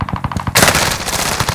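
Video game gunfire from Call of Duty Warzone on Fortune's Keep: a quick burst of close, sharp shots, then a louder sustained rattle of automatic fire.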